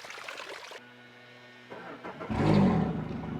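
An outboard boat engine whines briefly, cuts to a low idle hum, then catches and rumbles louder into steady running.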